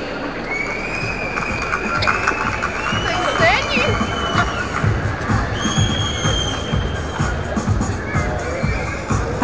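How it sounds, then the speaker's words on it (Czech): An audience at a beauty pageant applauds the contestants, a dense, lively patter of clapping mixed with crowd murmur and scattered cheers that swells and carries on steadily throughout. "Já bych určitě poprosila pro aplaus a potlesk pro všechny dívky."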